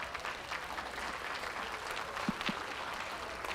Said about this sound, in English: Big round of applause as they exit the ring